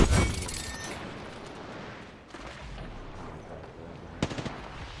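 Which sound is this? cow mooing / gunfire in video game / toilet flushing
gunfire in video game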